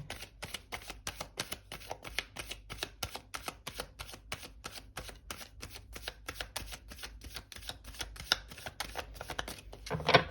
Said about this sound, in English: I will give the deck a few more shuffles